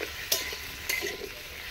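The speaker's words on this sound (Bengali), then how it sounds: "এটা করে একটু ভেজে নিই" Pumpkin pieces fry in a pan with a soft background sizzle, punctuated by two sharp scraping stirs of a utensil against the metal, close and moderately loud.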